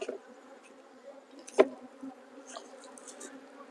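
Honey bees buzz faintly around an open colony during midsummer hive work, a thin scattered hum with one sharp brief bump partway through.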